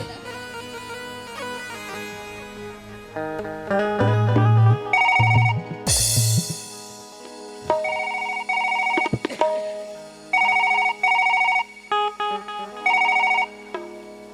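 A phone ringtone plays in repeated electronic bursts over background music during a Chhattisgarhi comedy stage show, ringing several times at a steady pace.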